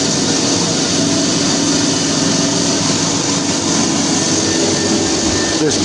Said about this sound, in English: This blower is taking the exhaust and attempting to blow it outside.